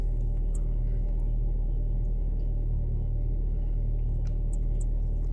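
Car engine idling roughly during an EGR valve active test, a constant low rumbling drone with faint irregular ticks above it, close and steady.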